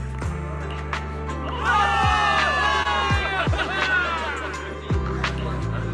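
A video-game crowd of soldiers in Zenless Zone Zero cheers for victory, a swell of whoops and shouts rising over a steady background score, with a few sharp thuds punctuating the din.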